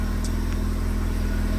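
A 1993 Asuna Sunfire car engine idles just after starting, a steady, even low hum with a regular pulsing throb, close by and unbroken.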